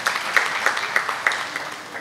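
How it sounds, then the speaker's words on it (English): Audience applause at a chartered accountants' institute event, a short burst of scattered, fairly close clapping with a few sharper individual claps. "I think a big round of applause for each one of us to come forward."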